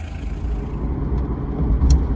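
Peugeot 205 XAD diesel car pulling away and driving, heard from inside the cabin as a steady, loud low engine and road rumble with a few faint higher clicks.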